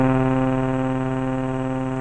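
A Motor Synth with its filter turned down and its envelope adjusted holds a sustained, buzzy, harmonically rich tone that drones steadily, heard alone and fading slightly over two seconds.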